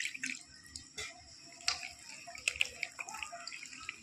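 Water dripping and trickling into paratha dough in a home kitchen as it is kneaded by hand, with irregular close drips and small splashes over a quiet background.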